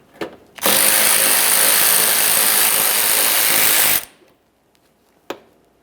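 A power tool backs out a 10mm mounting bolt in the fender corner of a 2009-2014 Nissan Maxima bumper cover, running in one loud steady burst of about three seconds, with faint clicks before and after.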